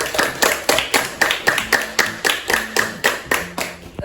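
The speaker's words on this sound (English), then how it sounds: "Give her a round of applause." A sixth-grade class gives a round of applause, a steady rhythmic clapping of many hands, close and fairly loud, with no talk over it.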